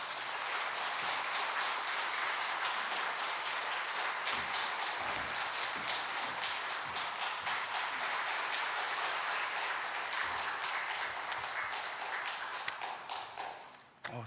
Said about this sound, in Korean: 나주교회처럼 이렇게 환영의 박수를 길게 치는 교회는 처음 본 것 같습니다